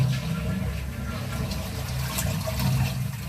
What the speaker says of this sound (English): Give it another flush.